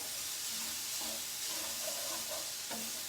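Quiche filling with spinach cooks in a pan, giving a steady close sizzle and hiss with a few soft stirring scrapes, no voices over it.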